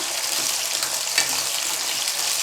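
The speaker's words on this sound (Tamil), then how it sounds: "கோவக்காய் போட்டு நல்லா ஒரு எண்ணெயிலே நல்லா வதக்கி எடுத்துருங்கம்மா" Ivy gourd (kovakkai) sautéing in hot oil for a gravy masala gives a steady, even sizzle with soft crackle and one brief stir scrape partway through, close and moderately quiet.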